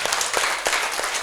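An audience at a pyramid anniversary event applauding, a dense wash of many hands clapping steadily and loudly, close and without a break.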